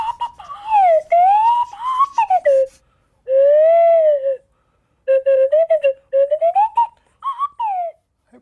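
A Swanee whistle voices Major Clanger from the Clangers in a low register, sliding up and down in talking, speech-like phrases with pauses between them, loud and close.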